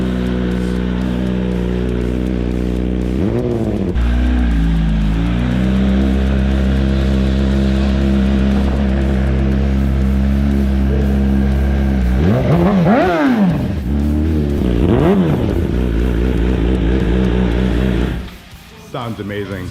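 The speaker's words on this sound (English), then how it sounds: "So what's your favorite thing about this machine, man? The exhaust, like it's so loud." A 2019 Yamaha R6 track motorcycle with a loud exhaust idles heavily, then blips through several sharp rising-and-falling revs close by, with people talking around it.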